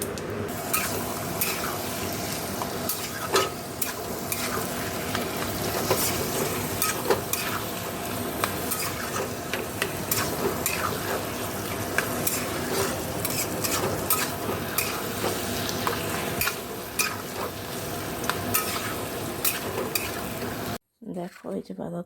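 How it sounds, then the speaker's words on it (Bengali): Spices tempering in hot oil in a pan, with cabbage added after, giving a continuous close crackling sizzle with stirring scrapes throughout and a short break at the end. "তেলটা তো গরম হচ্ছে, একটু ফোড়নটা একটু ভালো করে একটু ভাজা ভাজা হয়ে যায়, তারপর এটা দিয়ে দেবো।"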